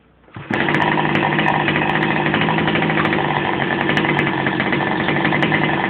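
A Goped scooter's 29cc two-stroke engine, fitted with a new easy starter, catches after a quick pull and settles into a loud, buzzy, steady idle close by, with faint clicks on top.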